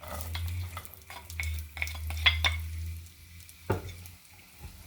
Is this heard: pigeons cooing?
no